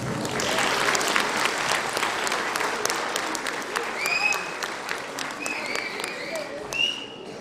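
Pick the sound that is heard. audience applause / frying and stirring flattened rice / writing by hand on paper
audience applause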